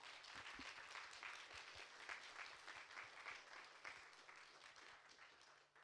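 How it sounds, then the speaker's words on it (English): An audience claps for panel speakers and a moderator at a report launch event, dense, sustained applause that fills the room and fades near the end. "Can we just get another huge round of applause for our brilliant speakers and for the moderator?"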